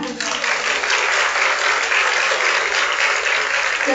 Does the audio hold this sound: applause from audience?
yes